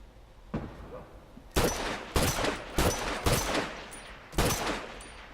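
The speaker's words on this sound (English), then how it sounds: "I only hit him twice with all those shots" Gunfire in The Last of Us online multiplayer: a faint early shot, then five loud, sharp reports in uneven bursts over about four seconds, with a soft tone between them.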